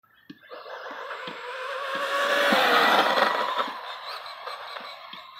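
A Traxxas XO1 RC car on a 6S setup runs near full speed, its high-pitched motor whine and tire noise swelling steadily to a loud peak mid-run and then easing off as it passes.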